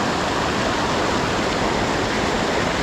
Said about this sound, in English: But as you can see, the water is roaring.